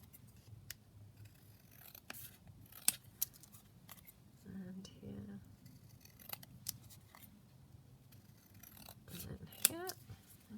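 Scissors snipping through sheets of paper to cut out gift tags, giving a series of crisp close cuts and rustles with short pauses between them, alongside faint handling noise.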